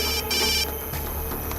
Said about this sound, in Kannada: ನಮ್ಮಣ್ಣ ಫೋನ್ ಮಾಡ್ತಾ ಇದ್ದಾನೆ